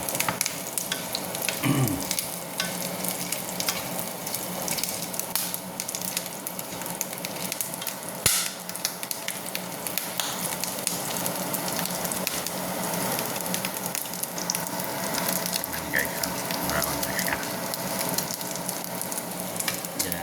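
Pork frying in a pan, cooked with fish sauce, tomato, onion and garlic, gives a steady, crackling sizzle with occasional stirring scrapes throughout and no talking.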